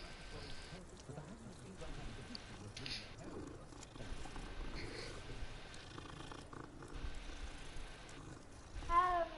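A cat purrs in the Hogwarts Legacy video game, a soft continuous rumbling purr mixed with faint rain-like patter and game ambience, and a person talks over it.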